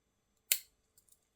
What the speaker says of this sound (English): All right, you got the scissors.